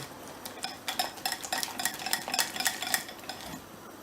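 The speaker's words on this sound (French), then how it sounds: "Je mélange comme ça pour éviter les grumeaux." A spoon stirs carrot soup in a pot, scraping and clinking in a quick, steady, close rhythm, fairly quiet with no talk.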